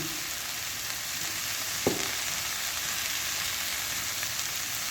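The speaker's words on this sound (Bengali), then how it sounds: "এই আলু কুমড়োটা ভাজা হতে হতে দিয়ে দেবো কাঁচা লঙ্কাগুলো একটু ভাজা ভাজা হয়ে গেছে" Potato and pumpkin pieces with green chillies fry in a pan, giving a steady, even sizzle throughout with one brief utensil knock partway through; no voices.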